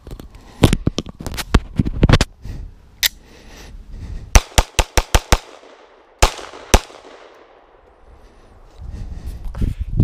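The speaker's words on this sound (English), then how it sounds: "So I'm gonna shoot off the 10 rounds I have in the nine." A 9mm handgun fires eight rounds outdoors as sharp, loud cracks, a few spaced and others in quick bursts, with echoes trailing off between shots and faint background voices.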